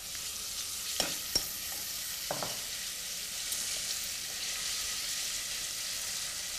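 Food fries in a pan until golden brown, giving a soft, constant sizzle with a couple of sharp utensil clinks early on and no talking.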